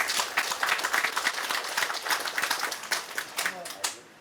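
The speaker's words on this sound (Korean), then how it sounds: "군수님하고 관계 공무원들에게 큰 박수 한번 부탁드립니다" Audience at an outdoor site meeting in Uiseong County claps steadily for the county governor and officials, a dense run of hand claps that fades out at the end.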